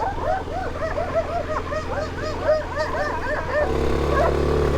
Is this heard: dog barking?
yes